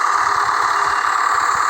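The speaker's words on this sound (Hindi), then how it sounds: "ये जो जा रही है बाजू की कार है" A car's engine in an audio driving video game drones steadily at mid pitch with a low rumbling pulse underneath as the car passes alongside; loud and continuous, with no speech.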